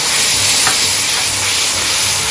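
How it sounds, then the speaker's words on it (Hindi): Masala with soaked masoor dal fries in a pan with a loud, steady sizzle, close up, with a few scraping stirs and no talk. "इसमें हम ये मसूर की दाल शामिल कर देंगे जब आपका मसाला भून जाए 3-4 मिनट।"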